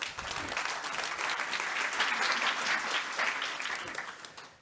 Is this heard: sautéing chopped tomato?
no